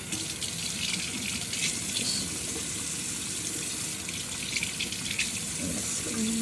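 A faucet runs in a steady, fairly close stream into a sink for several seconds, with small splashes and shifts in the flow and no speech.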